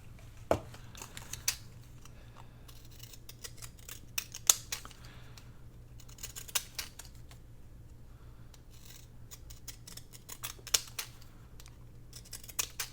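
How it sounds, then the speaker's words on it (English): Decorative faux postage stamp edge scissors snip through paper in a slow series of crisp, close cuts, with soft rustling between them in a quiet room. "grab our little scissors here"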